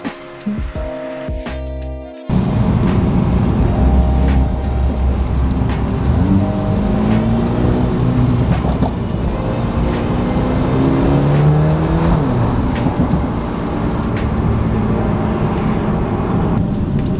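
A Mercedes A35 AMG with a Stage 1 tune roars loudly from close by as it drives, revving and shifting with a deep, throaty growl throughout.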